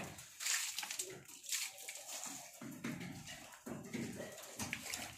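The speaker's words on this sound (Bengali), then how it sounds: "একটু একটু করে সব জল দিয়ে দেবো।" Water poured onto garden plants and rose bushes, a steady splashing and sloshing stream running almost without pause, close by and fairly loud.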